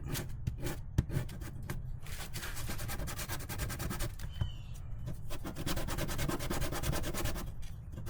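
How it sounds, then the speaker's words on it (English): Sandpaper lightly rubbing a motorcycle skid plate on a KLR650, a soft continuous scraping with quick repeated strokes, close and fairly quiet, with no one talking. "Just lightly rubbing it until I was satisfied."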